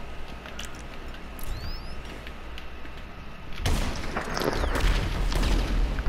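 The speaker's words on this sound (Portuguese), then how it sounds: "Que tiro foi esse?" Gunfire in Grand Theft Auto V Online: scattered shots at first, then a loud, dense burst of firing and impacts that keeps going through the second half, with no talk.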